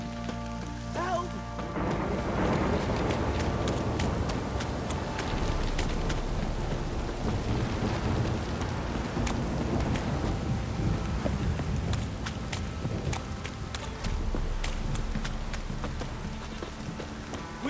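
Heavy rain and thunder roll through in The Witcher 3 video game, a continuous loud downpour hissing across surfaces with deep rumbling thunder underneath, sustained without a break over the whole stretch.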